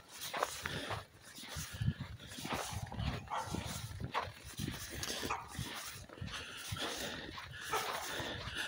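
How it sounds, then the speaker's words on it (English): A golden retriever barks and whimpers repeatedly in snowy blizzard aftermath outdoors, a string of moderately close barks over a steady background rush. "Oh, they always bark before you get to see them."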